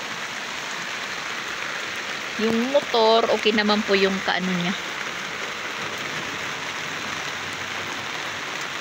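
Steady rain falls outdoors onto surfaces as a continuous dense hiss throughout, while a voice talks briefly over it in the middle.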